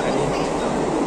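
A crowded Mumbai local train rumbles along in a loud, steady, broadband roar that fills the whole short stretch.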